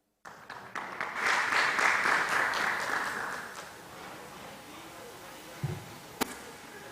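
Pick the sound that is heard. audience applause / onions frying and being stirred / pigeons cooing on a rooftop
audience applause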